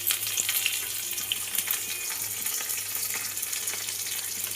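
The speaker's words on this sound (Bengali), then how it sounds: "রসুন ফোড়ন দিচ্ছি।" Garlic tempering in hot oil for a small-fish curry, a steady close crackling sizzle with faint stirring scrapes running throughout, no voices.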